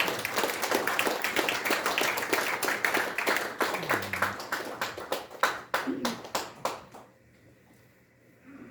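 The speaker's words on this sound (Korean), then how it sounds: "박수로 맞이해주시죠" An audience applauding at the opening ceremony of a presidential VR memorial hall, dense clapping that thins into a few sparse claps and stops, with a voice briefly heard partway through.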